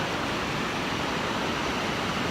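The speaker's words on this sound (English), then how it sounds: "I'm trying to get the water cascading down there" Small waterfall cascading over rocks in Tuolumne Meadows, Yosemite, a steady, even broadband rush of falling water that holds without a break throughout, close and moderately loud, with no voices.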